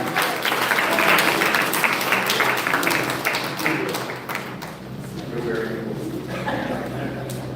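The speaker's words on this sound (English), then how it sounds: "a big round of applause for her, ladies and gentlemen" Applause at a national essay competition award ceremony in Jamaica, strong clapping that gradually thins out while people talk over it.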